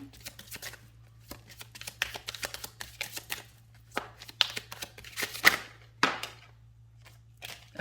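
Love oracle cards being shuffled by hand, a steady run of quick papery riffles and soft slaps continuing for several seconds over a low constant hum.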